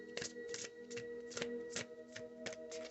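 Tarot cards being shuffled by hand in a steady run of soft riffling slaps, close and quiet against a faint tonal hum.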